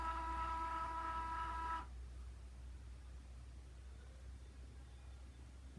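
A Cricut Joy cutting machine working through medium cardstock, a steady motor whine with tonal hum that cuts off partway through, leaving faint room noise.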